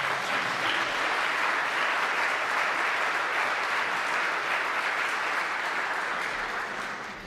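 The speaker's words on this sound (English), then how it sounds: "would you please join me in applauding our school board candidates?" An audience at a school board candidate forum in Greeley-Evans applauds, sustained crowded clapping at an even level that tapers slightly at the end.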